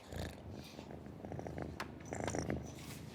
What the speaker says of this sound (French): Rassurés, ils ronronnent comme quand ils étaient petits.